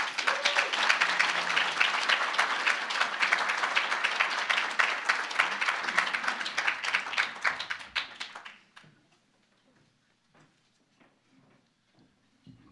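Dense audience applause at a chamber of commerce breakfast, loud and sustained for about eight seconds before cutting off abruptly, followed by a few faint scattered claps and taps in a quiet room.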